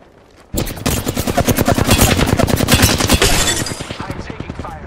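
Rapid automatic gunfire in Apex Legends, a long sustained burst of closely spaced loud shots starting abruptly after a quiet moment and fading toward the end.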